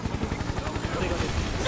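Helicopter in a Final Fantasy VII Remake battle, a steady rotor-like throb with rapid low pulses running continuously under busy game combat noise for a couple of seconds.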